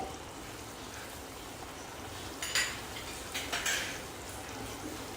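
Grated paneer mixed into gravy in a pan, quiet steady sizzling at first, then a short burst of spoon clinks and scrapes against the pan near the end.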